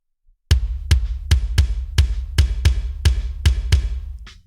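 Layered kick drum samples from a big drum kit mix, sent through reverb: nine or so deep, booming thumps in an uneven rhythm, each with a longer washy tail that blurs into the next hit, loud and close.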